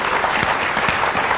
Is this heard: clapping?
yes